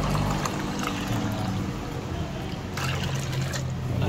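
Water poured into a pot while cooking suman, Filipino sticky rice cakes, a steady continuous pouring and trickling that runs the whole time, close and fairly loud.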